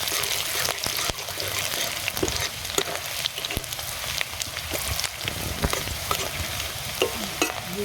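Chopped ginger, garlic and chilli fry in a pan with a loud, steady sizzle, broken up by frequent stirring scrapes and clicks throughout.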